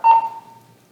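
A single short electronic fire dispatch alert tone sounds, clear and steady, then fades quickly into silence, played as a final tone at a firefighter's retirement ceremony.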